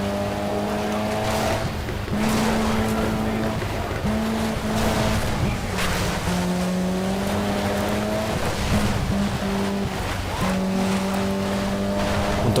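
Rally car engine revving steadily through a race in Sega Rally, running in third place on the final laps, with a continuous droning motor that rises and falls in pitch alongside occasional tyre noise.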